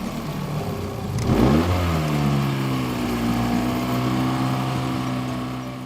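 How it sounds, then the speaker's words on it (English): A small 9.9 hp four-stroke outboard motor sputters, briefly revs, then settles into a steady, even idle with a low droning hum and no voices. "now the engine's started, everything's going good, it's idling just fine"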